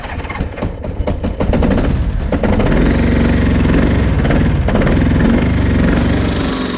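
An abandoned Honda car with a seized engine, cranked and sputtering into loud, rough, uneven running with popping, misfiring bursts close by, never settling into a smooth idle.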